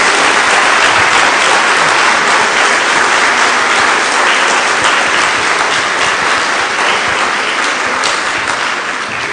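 A church congregation gives a loud, continuous round of applause to Jesus, dense clapping from many people filling the whole stretch at close, steady intensity.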